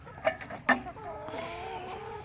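Chickens clucking around a feeder during farm chores, with a couple of short, sharp clucks near the start, followed by softer continuous clucking and faint background noise.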